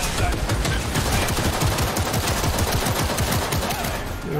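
Sustained automatic gunfire in Cyberpunk 2077, a dense, continuous rattle of rapid shots at a steady loud level, with no talking.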